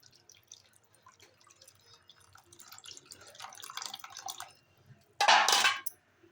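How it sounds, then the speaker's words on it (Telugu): Tamarind juice is poured into a pan of fish curry, first as faint drips and a soft building trickle, then a brief louder splashing pour near the end, close by and without speech. "ఇవి వేసుకున్నాక ముందుగా మనం నానబెట్టుకొని గుజ్జు తీసుకున్న చింతపండు రసం దీనిలో వేసుకుందాం."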